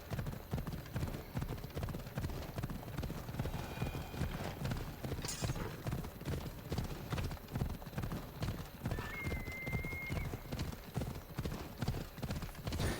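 Rhythmic clip-clop of horse hooves at a steady walking pace, close by, with an occasional horse whinny in the background, in the video game Assassin's Creed Odyssey.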